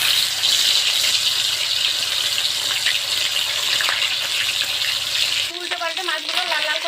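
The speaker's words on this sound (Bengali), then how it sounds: "তেল গরম হয়ে গেছে। এবারে মাছ দিয়ে দেব।" Fish fries in hot mustard oil in a wok, giving a loud, steady sizzling hiss that fills most of the time before a voice begins speaking near the end.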